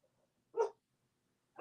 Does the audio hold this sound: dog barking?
yes